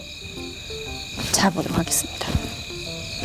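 Crickets chirp in a steady, high, continuous trill at night beside the Jungwang-ri fishing canal, under a person speaking, with some nearby rustling and handling noises.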